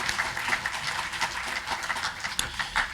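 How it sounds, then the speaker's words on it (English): Audience applause at a St. Francis College student event, a steady wash of clapping at moderate volume that holds evenly for the whole stretch with no voices over it. "Let's give them all a round of applause"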